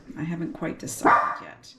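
A household dog barks and yips a few times close by, overlapping a woman's speech in a kitchen cooking setting, the loudest bark arriving about midway.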